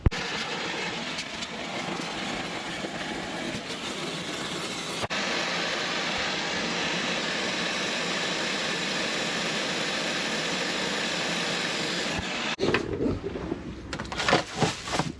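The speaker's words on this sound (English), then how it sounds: "I'm gonna vacuum this out" A vacuum sucks a rat nest out from between the cylinder heads of an RV engine, a continuous loud rushing roar that runs steadily before cutting off into scattered clunks and rustles.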